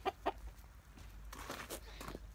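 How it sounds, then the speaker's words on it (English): A flock of about 65 farm chickens clucks close by in short, soft calls, two sharp clucks at the start followed by quieter scattered clucking. "So we've got approximately about 65 chickens."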